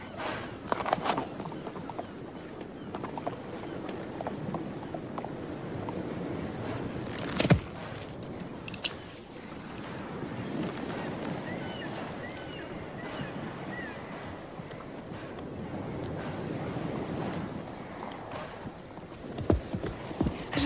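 A horse's hooves clip-clop in a steady walking rhythm at moderate distance, with faint background ambience and occasional brief speech or snorts.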